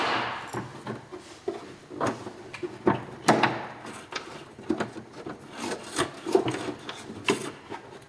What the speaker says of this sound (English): let's go ahead and get those deuce fasteners twisted in place